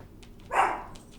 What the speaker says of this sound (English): Sorry about my barking dog in the background.